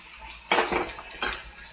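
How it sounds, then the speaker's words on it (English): Garlicky marinade poured from a container into a pan holding salmon, a close liquid splash in two short bursts over a soft background hiss. "we'll pour about 1/3 of that marinade in with the salmon"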